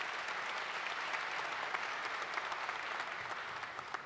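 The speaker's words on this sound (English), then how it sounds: "This round of applause for those folks." A large crowd claps steadily at a 2019 undergraduate university commencement, a dense, sustained wash of applause with no voices on top, holding even throughout.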